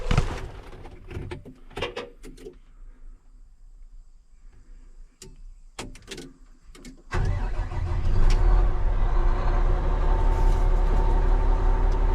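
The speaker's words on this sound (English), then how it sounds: "let's get the haul truck going" A haul truck at a farm pond cranks and its engine catches after several seconds, settling into a loud, steady diesel rumble; scattered clicks and bird calls come before the start.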